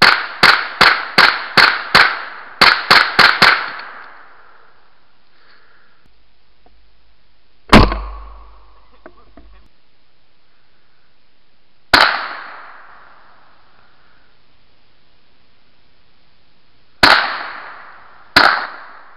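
Gunshots fired at a chestnut stand outdoors: a rapid burst of about ten sharp cracks, then four isolated loud shots spaced several seconds apart, each with a short ringing decay, no talking.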